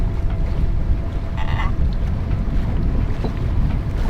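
A sailboat motors along under engine power at sea, a steady low rumble mixed with heavy wind buffeting and water rush, loud and continuous throughout.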